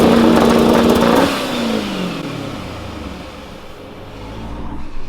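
A loud Dodge Charger Hellcat engine with full exhaust revs hard, then its pitch sweeps down as the revs fall away into a lower, rumbling idle.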